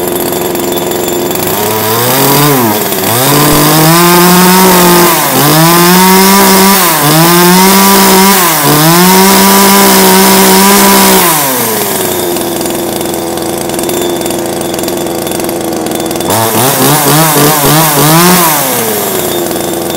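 A small Japanese Lakatomi chainsaw roars loudly and close up, revving up and down in repeated surges between steady stretches of engine drone.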